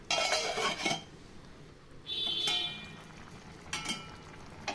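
Taro and small tubers being stirred into a tamarind curry in a pot, giving a few close scraping and clinking bursts of spoon against metal with quiet pauses between, no talking.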